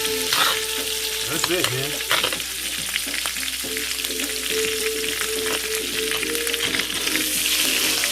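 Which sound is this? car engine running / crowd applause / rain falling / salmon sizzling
salmon sizzling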